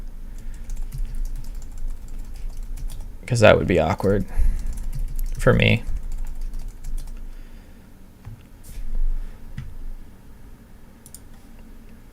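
Password being typed on a computer keyboard: two close bursts of rapid clacking keystrokes, followed by a few quieter taps, while someone talks in between.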